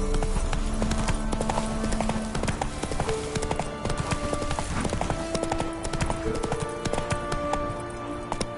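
A horse gallops in The Witcher 3 video game, loud rapid hoofbeats drumming in a continuous rhythm over a dense game soundtrack, with a faint whinny.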